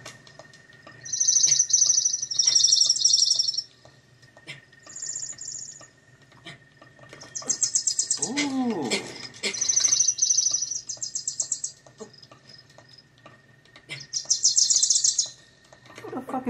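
Bird chirps in a Zelda video game arrive in repeated short bursts of high tweeting over a quiet ambient game backdrop, with a brief low rumble partway through.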